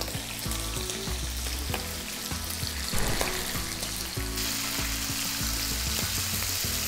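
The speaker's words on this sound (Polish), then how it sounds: "Świeżo ubity drób wrzucany na patelnię" Chicken thighs, freshly slaughtered poultry cut into small pieces, sizzle and fry steadily in a pan, a dense crackling hiss close up with occasional stirring clatter and no talk.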